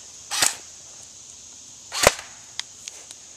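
Two sharp airsoft gun shots crack out close together at an outdoor airsoft field, each snapping loud and brief, followed by a few fainter pops.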